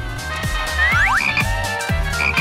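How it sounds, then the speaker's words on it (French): A frog croaks in steady, rhythmic low pulses about twice a second, loud and close, with bright whistling chirps and swooping tones layered over it. "Regardez, cette grenouille n'est pas aussi effrayante que l'on pensait au départ."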